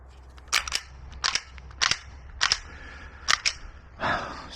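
Beretta pistols fire at a shooting range in sharp single shots and quick pairs, about eight reports over a few seconds, crisp and close against a low background hum, with no voices.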